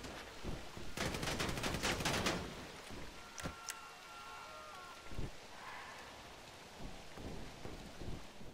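Video game gunfire from GTA Online: a rapid burst of shots around one second in, then scattered single cracks and thuds spread over the rest, fairly distant and faint.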